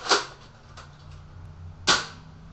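An airsoft shotgun fires twice, two sharp close pops about two seconds apart, with faint clicks and handling noise between the shots.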